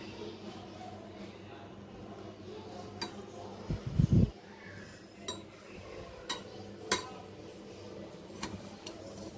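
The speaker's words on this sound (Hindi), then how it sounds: "अब मैं चावल का दम खोल के दिखाती हूँ।" A pot of steamed cumin rice being opened and served: a brief clatter of a lid and metal utensils against the pot midway, followed by several light, scattered clinks and scrapes over quiet background.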